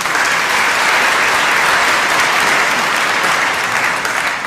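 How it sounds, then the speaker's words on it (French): Loud, sustained audience applause at a lecture hall conference on Islam: thick, continuous clapping from a large crowd, steady for the whole stretch with no talk over it. "Donc c'est la deuxième et la dernière fois que vous allez applaudir aujourd'hui."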